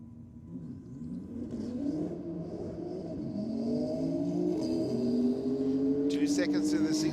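A Porsche and a Holden Commodore at a drag racing meet, their engines revving and climbing in a sustained, building roar that grows louder and higher toward the end.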